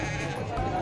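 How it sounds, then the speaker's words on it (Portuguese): Goat bleating at a livestock fair of pigs, sheep and goats in Nossa Senhora da Glória, Sergipe, one short nasal bleat up close. "Olha aqui esse cabra, dois bodes bons aí"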